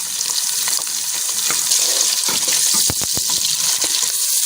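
Sliced onions drop into hot ghee already seasoned with cloves, cinnamon, star anise, curry leaves and cumin, setting off a loud, continuous sizzling hiss with a few sharp crackles and pops midway.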